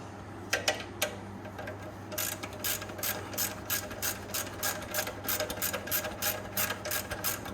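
A ratchet fitted with a 14 mm socket clicks in quick, even bursts as it loosens the oil drain bolt under a Kubota BX23S compact tractor, with a steady low hum underneath and no talking.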